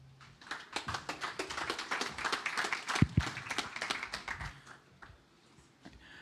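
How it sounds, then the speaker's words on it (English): Applause for a conference speaker on the Chisel stage at Modular Summit, a dense spread of hand claps that swells, peaks near the middle, then thins out and fades near the end. "So let's give him the round of applause."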